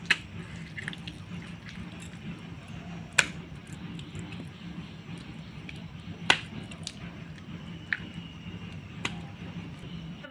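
Wet clay for a small earthen stove is worked with water-moistened hands, a soft continuous squelching with occasional sharp pats and slaps spaced a few seconds apart, close and fairly quiet.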